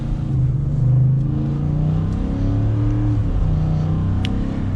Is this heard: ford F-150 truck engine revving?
yes